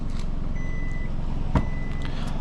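Powered trunk liftgate on a 2026 gasoline all-wheel-drive Kia Sportage sounding a single short beep while opening, over a steady low rumble, close and with no voices.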